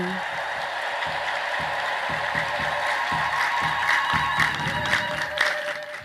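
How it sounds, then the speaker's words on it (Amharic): An Ethiopian Orthodox church congregation ululates in praise of God after a healing testimony, a loud, sustained wall of high trilling voices with scattered clapping that carries on throughout. "እልል ብላችሁ እግዚአብሔርን አመስግኑ"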